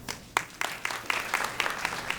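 Audience applauding graduates at a 2019 summer school graduation ceremony, a scattered crowd of hand claps with sharp individual claps standing out, moderately near.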